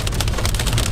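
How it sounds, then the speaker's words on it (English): Hail pelts a small car on an English road, making a dense, loud, continuous patter of hard impacts across the bodywork in a brief burst with no voices. "We're getting bombarded by hail."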